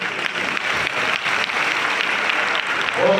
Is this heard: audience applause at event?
yes